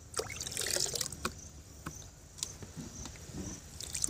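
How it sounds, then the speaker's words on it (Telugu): Mixed pesticide is poured into a drum of water, a close, uneven splashing trickle with scattered drips and knocks, fairly quiet and without talk. "మనము కలిపి పెట్టుకున్న మందులు మొత్తము ఇప్పుడు ఈ డ్రమ్ము వాటర్లోకి పోసుకోవాలి."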